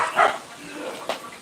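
A dog barks once or twice at an outdoor grasshopper hunt, short sharp yaps close by over light background noise, with people talking nearby.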